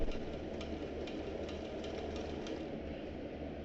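A sewing machine stitches a backpack, giving a steady close-up motor hum with faint, regular ticking of the needle throughout and no talking.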